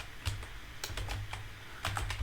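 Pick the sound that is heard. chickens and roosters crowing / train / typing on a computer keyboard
typing on a computer keyboard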